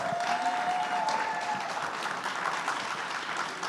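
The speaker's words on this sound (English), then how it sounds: "So really huge round of applause to these two ladies." An audience at a startup demo day applauds two event organizers, a sustained wash of clapping from a crowd that continues steadily and fades slightly toward the end.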